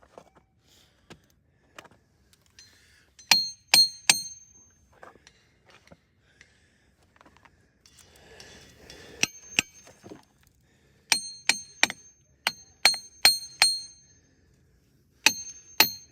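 Ringing rocks are struck with a hammer, giving sharp metallic, bell-like pings in quick runs of two to four strikes separated by quiet pauses, close and clear, with softer taps between.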